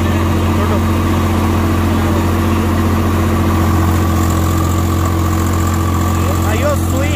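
Swaraj 744XT tractor engine held at a steady 1800 RPM in second gear in a field, a loud, close, constant heavy drone with strong low hum, with someone talking over it.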